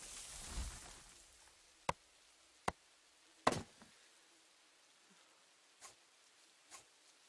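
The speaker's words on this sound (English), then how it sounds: "I should probably chop down the stump before I do anything else, so I don't lose it." Several sharp, widely spaced wooden chops on a tree stump in the survival game Rising World, each a crisp isolated hit with faint rustling between them and a muffled thump at the start.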